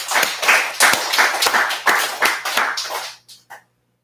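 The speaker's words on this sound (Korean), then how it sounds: "자, 박수로 일단." Applause from a church audience during a Bible lecture on Genesis, a burst of clapping close by with sharp individual claps that stops abruptly after about three and a half seconds.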